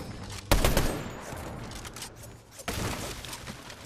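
Gunfire in the video game Fortnite comes as two sharp bursts of rapid shots, the first just after a moment of quiet and the second near the end, fairly distant and moderately loud.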